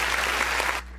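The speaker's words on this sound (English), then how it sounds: "You could clap for him." Audience clapping at a talk, a brief dense patter of hands over a low hum that cuts off sharply near the end.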